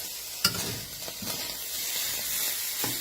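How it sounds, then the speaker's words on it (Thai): Fish roe stir-roasted in a pan with egg, a steady close sizzle with a few scraping stirs, one sharp clack near the start, no talking. "คั่วเนาะจะว่าทอดก็ไม่ใช่แบบคั่ว คั่วให้เขา"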